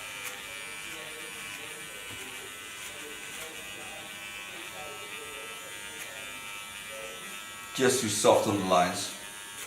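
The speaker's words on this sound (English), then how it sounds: "Get over to my large clipper again, put it to the back" A large electric hair clipper trims hair with a steady close buzzing hum under a person's speech, then a louder burst of rustling near the end.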